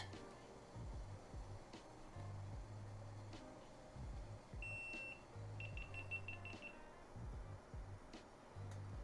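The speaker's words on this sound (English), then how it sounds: "I don't know why it's beeping." A kitchen appliance beeps during cooking of Venezuelan hallacas and crema catalana, with short high-pitched tones and a brief run of quick repeated beeps over a low background hum, with no voices.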